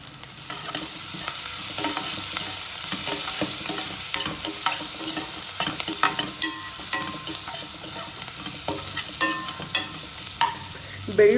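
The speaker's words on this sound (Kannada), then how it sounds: "ಈರುಳ್ಳಿ ಎಲ್ಲ ಹಾಕೊಂಡು ಫ್ರೈ ಮಾಡ್ಕೊಳ್ಳೋಣ" Onions frying in a pan with turmeric powder, cooked for sambar: a steady sizzle runs throughout, broken by repeated scraping and clinking as a spoon stirs, with a louder clatter near the end and no talking.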